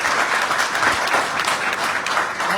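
A seated audience at a wrestling association meeting in India bursts into loud, continuous clapping. The applause is close and dense throughout, with no talk over it.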